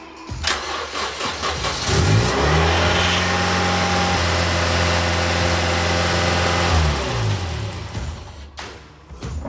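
Toyota Yaris engine cranking and starting up, then idling steadily and close with a constant hum before shutting off near the end.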